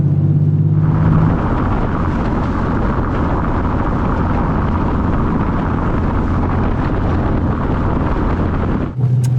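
A Porsche with suspension trouble drives over a brick road, giving a loud, continuous rumble and buzz from inside the cabin with heavy broadband road noise. It runs steadily for about eight seconds before a brief dip near the end.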